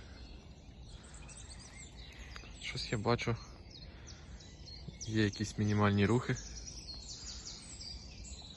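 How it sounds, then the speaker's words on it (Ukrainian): Birds chirp and sing in a small forest by a pond, faint and distant calls scattered through the scene, with someone speaking quietly over them partway through. "Такий невеличкий, в лісі, але пташки співають."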